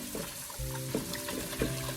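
Running water fills a container for washing vegetables in a home kitchen, a steady close splashing stream with faint tonal hum and small knocks underneath.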